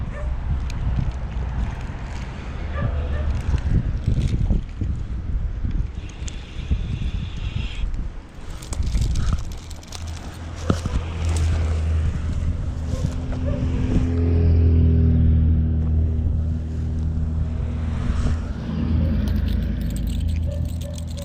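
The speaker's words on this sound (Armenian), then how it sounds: "Ժողովուրդ ջան, լավ քամի ա դուրսը," Strong wind gusting outdoors during trout fishing in Armenia, a loud buffeting roar with low rumbling surges throughout and no voices.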